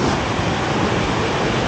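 A shallow but still-moving river flows beneath an old bridge, dating from 1850, in Quezon province, Philippines. It makes a close, loud, steady rushing wash with no pauses and no speech.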